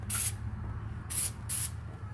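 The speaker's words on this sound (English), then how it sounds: "that's why you get some just brake clean, spray it down." Brake cleaner hisses from an aerosol can onto a 2016 Mustang's front brake rotor in three short, sharp bursts, close by, with brief pauses between them.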